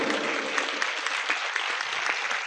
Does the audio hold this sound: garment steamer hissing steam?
no